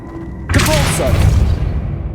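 A Depulso force spell cast in Hogwarts Legacy lands as a sudden loud booming thud with a whooshing burst, then trails off into a lingering rumble.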